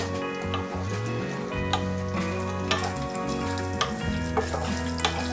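Peanuts frying in hot oil in a small kadai for poha chivda, a steady dense sizzle with faint stirring clicks throughout, close and continuous.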